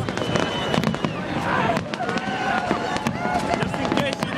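Fireworks bursting over Prague give rapid overlapping cracks and pops on top of a constant dense rumble, loud and continuous throughout.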